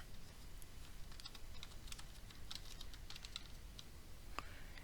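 Keys clatter in a quick, faint burst of typing on a computer keyboard, a run of light clicks and ticks over quiet room noise.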